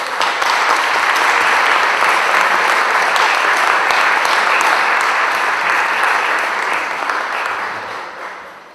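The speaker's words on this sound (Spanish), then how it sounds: "Demos un fuerte abrazo y aplauso" An audience at an education panel claps in a dense, sustained round of applause that stays loud for several seconds, then begins to fade at the end.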